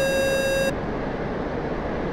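Cockpit warning beep in the DCS World flight simulator, a steady pure electronic tone lasting under a second over continuous engine and wind rumble that carries on alone afterward.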